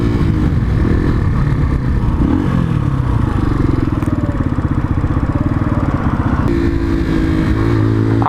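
A 125cc motorcycle engine close by, revving with a busy, pulsing mechanical drone that shifts pitch as it is put into gear and pulls away, loud and steady with no talking.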